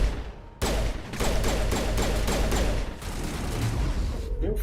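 Video game gunfire from Mass Effect Legendary Edition: a rapid burst of repeated shots in a steady rhythm, followed by continued combat noise, with a voice speaking briefly under it.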